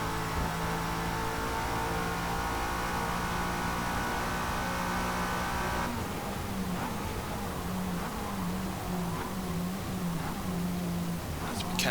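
2002 Lotus Esprit V8 engine in Forza Motorsport at Le Mans, holding a steady mid-pitched drone for several seconds, then rising and falling through gear changes in a wavering rev pattern, continuous and fairly close.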